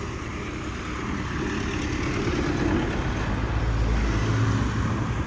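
A Suzuki Address V125S scooter on a test ride at top speed, giving a steady, loud engine drone mixed with heavy wind rush, continuous and close throughout with no talking.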